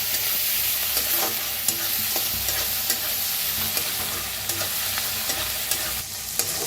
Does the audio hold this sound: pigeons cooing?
no